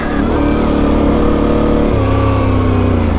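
A motorcycle engine revving hard while riding a rough gravel road on the Idaho backcountry discovery route, loud and close, with a steady throaty drone that drops in pitch toward the end.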